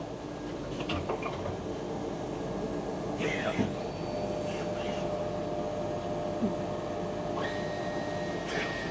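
Citizen Japanese machines making brass nozzles in a factory, a steady mechanical hum with occasional whirring and clanking. People talk over the machinery throughout.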